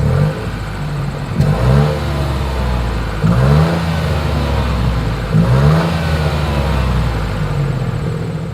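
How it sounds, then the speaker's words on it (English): A 2023 Nissan Rogue's exhaust revs repeatedly from idle, with three or four rising blips over a steady rumble, loud and close at the tailpipe, no talking. "exhaust clip."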